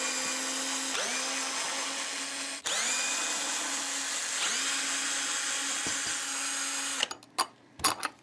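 Power drill unscrewing the neck bolts of a Fesley Telecaster electric guitar, a close, steady whine that stops briefly and restarts several times, then ends with a few clicks and handling knocks.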